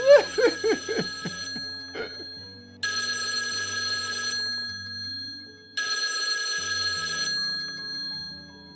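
A telephone bell rings twice in a house, two loud bursts of about 1.5 seconds each with a pause between, following a short descending musical jingle.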